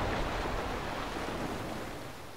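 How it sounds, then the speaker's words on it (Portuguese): A sheet of water pours down in the video game Never Alone, a soft, even rushing wash like a small waterfall, quiet and continuous with no voices. "olha que efeito bonito, uma capa da água descendo aqui"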